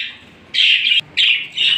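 Lutino red-eyed cockatiels give two bursts of shrill, loud chirping close by, separated by short pauses, with no voices over them.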